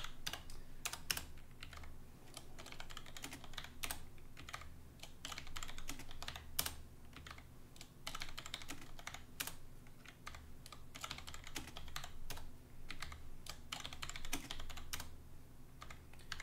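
Fingers type steadily on a computer keyboard, a close, continuous patter of crisp keystrokes with occasional louder key hits and no talking.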